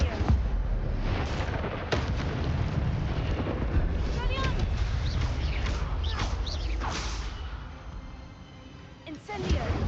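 Incendio fire spells cast over and over in Hogwarts Legacy, dense crackling bursts and roaring blasts through a loud, continuous combat mix, with a voice shouting over it.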